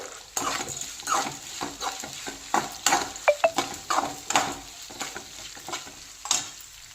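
Onions with green and dry red chillies fry for coconut rice, a steady sizzle broken by repeated scraping and clattering strokes as the pan is stirred.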